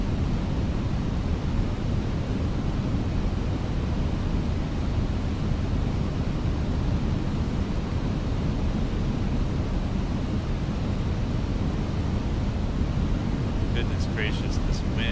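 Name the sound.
wind in a flight simulator during approach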